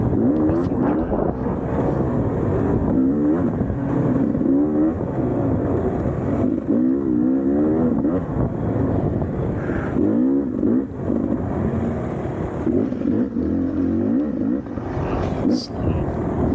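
Race car engine in the TORCS racing game, held in third gear and slow to pick up speed, a continuous revving drone that rises and falls under someone talking throughout.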